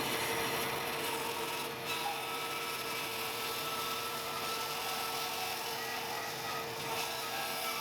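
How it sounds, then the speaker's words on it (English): A bandsaw ripping off excess wood material, heard as a steady, unbroken roaring hiss of blade through timber that stays close and constant the whole time. "to the bandsaw and rip off any excess material"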